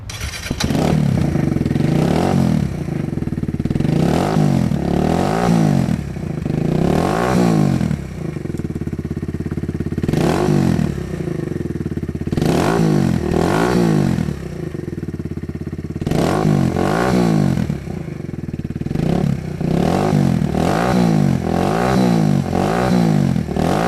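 A Kawasaki Z125 Pro with a Yoshimura RS2 exhaust and dB killer fitted revs repeatedly with a deep, throaty note, rising and falling in steady bursts, loud and close throughout.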